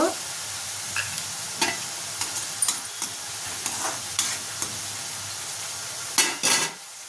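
Ridge gourd curry with tomato, salt and tamarind being stirred in a pan, a steady soft sizzle broken by scraping spoon strokes and a few louder clatters of the utensil against the pan, with no talking.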